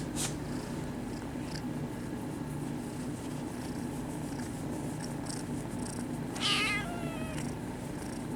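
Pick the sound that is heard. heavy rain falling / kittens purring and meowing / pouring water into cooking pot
kittens purring and meowing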